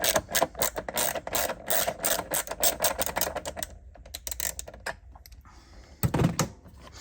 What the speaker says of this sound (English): I'm gonna take this as a 3/8 bolt down there beside the battery. And I'm gonna take it off.